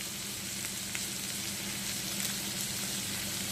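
Fish mince masala with green chilli and Agri masala fries in a pan, a close, steady sizzle with faint stirring clicks.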